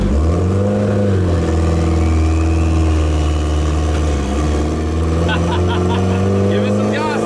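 Turbocharged Honda S2000 four-cylinder engine swapped into a Ford Model A rat rod, revving loudly and steadily close by with rising pitch, while people talk over it.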